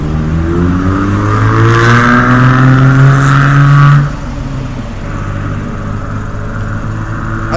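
A small car with a loud aftermarket muffler revs hard as it passes close by, its rising engine note peaking sharply, then the roar drops away and fades into distant traffic hum.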